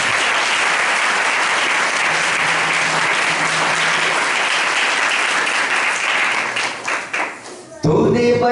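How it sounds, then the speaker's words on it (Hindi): Church congregation applauding loudly in a sustained, even burst that thins out and fades, followed by voices or music starting up. "जोरदार ताली बजाएं।"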